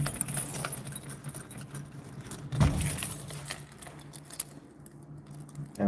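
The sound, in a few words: bunch of keys jangling while unlocking a door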